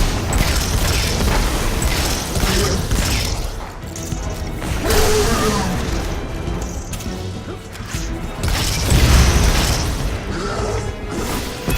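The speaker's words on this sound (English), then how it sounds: "Homing grenades, that's fun." Homing grenades bursting during combat in Destiny 2, a dense run of loud crashes, booms and whooshes layered over game noise, with several heavy impacts rolling one after another.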